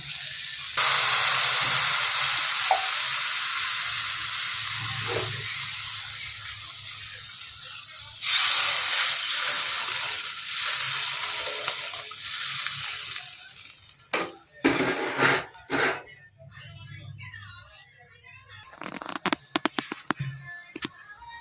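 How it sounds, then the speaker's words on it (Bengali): Crabs frying in hot oil with salt and turmeric, a loud continuous hissing sizzle that swells when stirred, then gives way to scattered scraping and clattering bursts with quieter gaps. "তার ভিতরে দিয়ে দিলাম কাঁকড়া আর নুন হলুদ দিয়ে কাঁকড়াগুলো ভালো করে ভেজে নিচ্ছি।"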